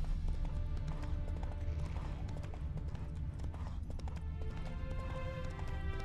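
Hooves of Geralt's horse Roach clip-clop steadily through a Witcher game world, a continuous trotting rhythm with a faint whinny mixed in, backed by music and ambient game sound throughout.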